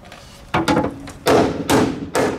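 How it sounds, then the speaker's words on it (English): A big hammer strikes the car body panels of a Miata during a bodykit and wide-arch fitting, giving about five loud, close, heavy metallic blows in quick, uneven succession. "That's where the big hammer comes in."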